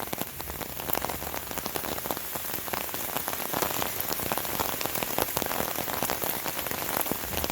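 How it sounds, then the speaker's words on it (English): Heavy rain pours down steadily during a storm, a dense, constant hiss of drops drumming on surfaces outdoors, loud and unbroken throughout with no voices. "It's just pouring down rain."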